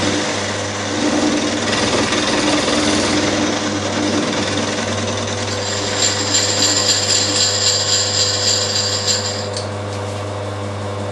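A milling machine squaring the end of a steel workpiece: loud, steady machine whine and rumble, with a brighter high-pitched cutting chatter joining partway through, no talking.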